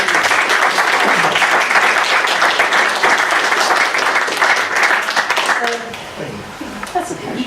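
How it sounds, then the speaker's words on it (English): Loud, dense applause from a meeting audience fills most of the stretch, then tapers off as a voice begins speaking near the end. "give him a round of applause."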